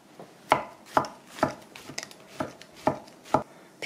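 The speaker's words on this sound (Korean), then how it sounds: "그리고 채를 썰어 주세요." Knife julienning fresh shiitake mushrooms into thin strips on a cutting board, with about eight crisp, evenly spaced chops close up and no talking.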